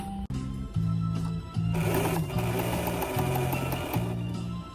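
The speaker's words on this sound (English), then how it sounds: "The machine is doing a zigzag" A Pfaff 130 sewing machine stitches zigzag, running in a steady rhythmic mechanical hum with repeating pulses and a whirring clatter, brief pauses between runs, heard up close without speech.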